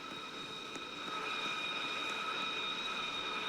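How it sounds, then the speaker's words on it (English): A Hawker Harrier jet flies by in the Roblox game PTFS, giving a steady engine drone with a high whine that swells slightly louder midway and then holds; nobody speaks. "There's a Hawker Harrier."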